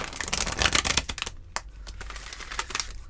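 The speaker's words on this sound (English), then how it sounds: "I'm just going to throw a few shuffles in there" A deck of tarot cards is shuffled by hand close up, with quick, papery riffles and flutters in a dense run, then sparser taps and slides as it settles.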